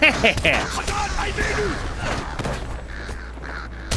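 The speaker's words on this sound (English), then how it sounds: "Now we can kill the birds" Several crows caw in a fight in the Lord of the Rings Online video game. The harsh calls come in quick bursts early on, then fade under a busy mix of combat noise and voices talking.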